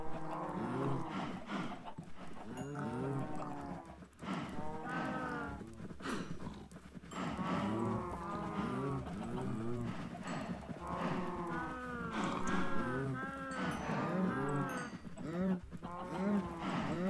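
Cows in a farming video game moo over and over, overlapping low calls that repeat steadily throughout, loud and close against a constant background hum.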